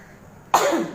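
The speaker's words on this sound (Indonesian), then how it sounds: "Enggak tahu lama sembuh batuk ini." A single sharp cough from a woman giving an indoor religious lecture, close and loud after a quiet pause.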